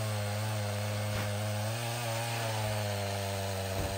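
A chainsaw fitted with a new chain and a three-foot bar cuts big firewood rounds, a steady, loud, continuous engine whine with no pauses.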